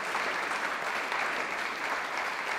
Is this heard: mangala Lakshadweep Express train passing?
no